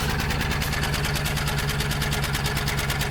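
A 1954 Buick engine with a smoky carburetor runs steadily at idle, a loud, even, rhythmic chugging close by with no talk.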